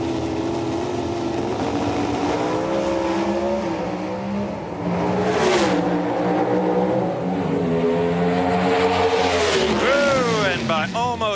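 NHRA drag racing cars at the 1995 Richmond nationals roar down the strip, loud engine tones climbing and shifting in pitch as they accelerate, with a commentator talking over the noise.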